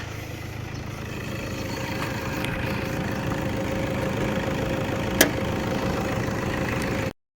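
A Toyota Hilux Vigo's 2.5-litre D4D VN turbo diesel engine idles steadily, a continuous low rumbling drone with even mechanical ticking and one brief sharp click near the end.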